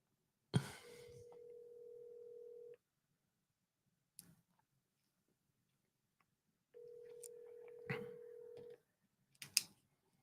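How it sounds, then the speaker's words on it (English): A telephone call being dialed, heard as two long steady tones separated by silence, each set off by clicks and short handling noises, close and fairly quiet. "I'm gonna triple dial her."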